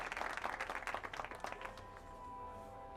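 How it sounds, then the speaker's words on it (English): A crowd in The Lion's Song video game breaks into dense clapping that fades after about two seconds, leaving a quiet background. "Everybody clap, clap,"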